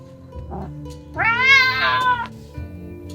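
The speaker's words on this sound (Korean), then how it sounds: "무섭게 포효하는 바바라." A white cat lets out one long, drawn-out yowl close up, rising and wavering before breaking off, with a shorter mew just before it.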